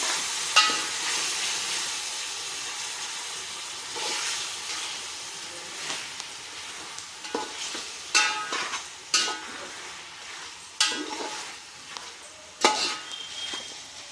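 Chicken being stirred in a pot for kodi palav, a soft steady sizzle with intermittent scraping and clinks of the spoon against the pan, close and without talk.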